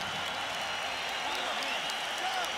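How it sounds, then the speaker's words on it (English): A boxing arena crowd applauding the fighters after the third Gatti vs Ward bout, a dense, steady wash of clapping and crowd noise from a large audience heard at a distance. "a round of applause for 2 warriors who gave it everything they had in this ring."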